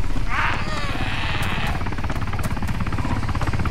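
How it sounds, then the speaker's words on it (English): Helicopter rotor thumping loudly and continuously in a multiplayer survival video game on the Namalsk map, with a chopping pulse under bursts of game noise and a shrill whine early on. "Someone get in the chopper and run with it."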